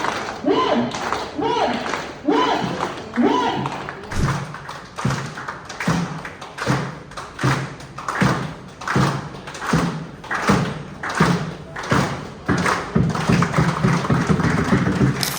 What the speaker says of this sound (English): a momentum here that will be a rhythmic clap by each and everybody